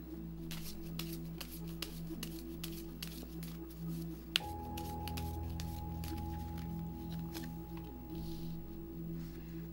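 Tarot fortune advice cards are handled and shuffled in a run of soft, quick flicks and taps over a steady low hum, with one sharper click partway through.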